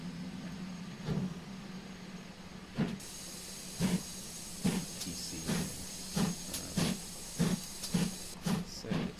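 Rhythmic chuffing of a steam locomotive in Train Simulator Classic on the Falmouth branch line, picking up pace, the puffs coming faster and more regular over a steady background hiss.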